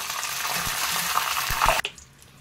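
Raw plantain chips fry in hot oil with salted water added, a close, even bubbling sizzle that ends abruptly near the finish with a quick splash.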